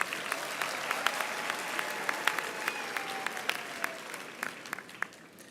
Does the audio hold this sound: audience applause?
yes